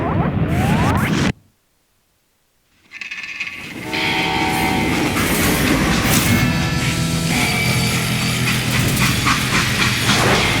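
A freight train rolling along in the Western shooter game Call of Juarez: Gunslinger, with a loud, steady clatter of wheels on rails and a brief dropout of near silence before the rumble returns at full strength.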